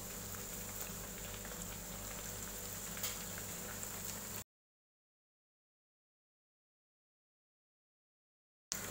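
Cornflakes-coated bread frying in hot oil at medium flame, giving a steady close sizzle and bubbling that stops abruptly partway through, then returns for a brief moment at the end.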